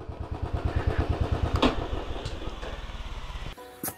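A motorcycle pulling into a bike parking spot in Pelling, Sikkim, idles with a steady, close, rhythmic thumping for a few seconds before the engine cuts off, followed by a brief rattle.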